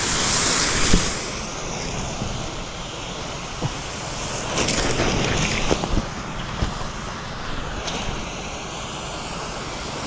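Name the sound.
irrigation water pump engine running and spraying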